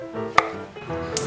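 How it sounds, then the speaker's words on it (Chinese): A knife chopping king oyster mushroom into roll-cut chunks on a board, with one sharp close thunk and a lighter tap about a second later, over soft background music. "杏鲍菇切滚刀状"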